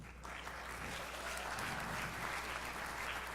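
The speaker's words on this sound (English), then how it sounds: "Give yourself a round of applause" Steady applause from an audience at a 2023 graduation ceremony, a continuous dense patter of clapping held at an even level for a few seconds with no voices over it.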